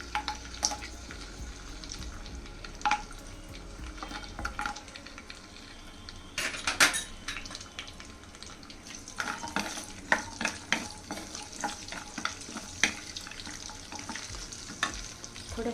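Cashews fry in ghee with a soft, continuous sizzle and occasional sharp clinks of a utensil against the pan, no voices.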